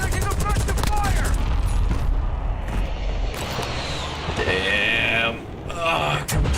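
Heavy gunfire and booming blasts fill a Warzone match, loud and dense throughout with steady rumbling impacts and sharper cracks, while a voice talks over the battle noise.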